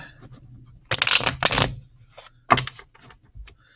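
Egyptian tarot deck being shuffled by hand: two quick riffling bursts of cards close by, followed by a sharper snap and softer card shuffles, with no talking.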